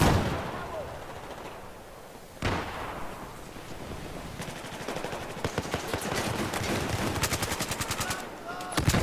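Video game gunfire in bursts, with a sharp blast early on, then rapid machine-gun style rattling from mid-clip onward, fairly loud and close, with some talk mixed in.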